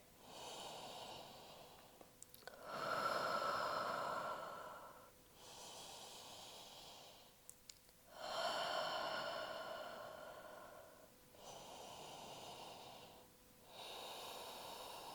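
Slow, deep breaths during a wide-legged yoga forward fold, three long airy inhale-exhale swells spaced evenly, close and soft with quiet gaps between them and no talking.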